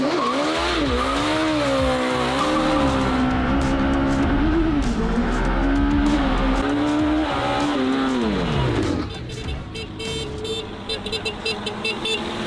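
A mini truck fitted with a Hayabusa motorcycle engine races on a track, its engine screaming through rising and falling revs. It is loud and close throughout, then drops away near the end into scattered clatter and faint tire noise.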